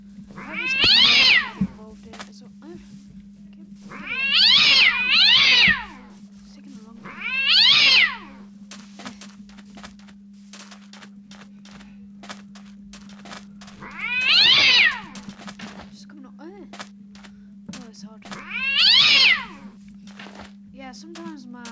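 Five drawn-out, high-pitched cat-like meows from an ostrich creature in Minecraft CrazyCraft, spaced a few seconds apart, with a steady low hum running underneath throughout.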